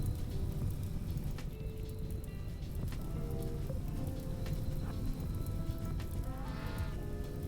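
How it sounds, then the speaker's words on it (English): Rain patters steadily in the game Rimworld, a soft even wash of falling drops with faint scattered taps throughout, fairly quiet and without talk. "And it's raining."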